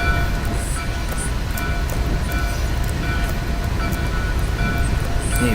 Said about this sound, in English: 8:44 is now departing Barstow for San Bernardino.